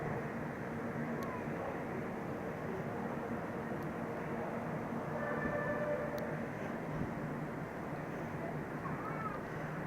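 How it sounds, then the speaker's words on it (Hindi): Krishak Express pulling out of Lucknow Junction, a steady broadband rumble of the moving train that continues evenly throughout, with faint tonal squeals and clanks in the middle. "राइट टाइम पे लखनऊ जंक्शन से ट्रेन चल चुकी है"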